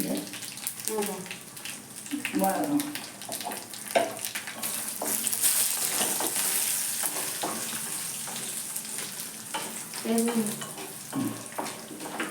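Chillies fry in hot oil for tamarind rice, a continuous hissing sizzle running under intermittent voices talking nearby.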